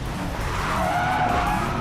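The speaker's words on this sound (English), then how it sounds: "F1 engine sound or muffler tone" A McLaren 570S in the Racing Master game roars continuously, its engine note blending with loud tire skidding and squealing throughout, dense and unbroken with no pauses.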